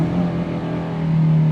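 A Hyundai Creta petrol engine runs at a steady, even idle, giving a smooth, close, continuous hum with no revving or other sounds.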